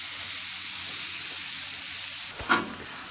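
Burgers sizzling on a flat-top griddle, a steady, dense close hiss of frying fat throughout, briefly interrupted near the end by a soft scrape or shift in the sound.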